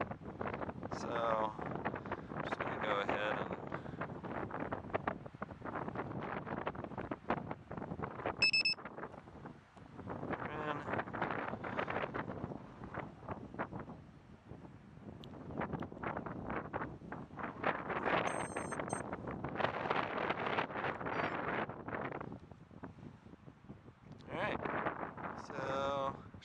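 Gusty wind buffets the microphone outdoors during the first flight of an Eachine Falcon 180 drone, roaring in loud surging waves that rise and fall over the whole stretch, with brief spoken remarks and a few faint high beeps mixed in.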